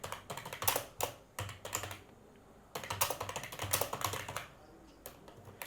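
Rapid, uneven keystrokes on a computer keyboard while a Java program is typed, coming in close bursts with short pauses between them and no talk.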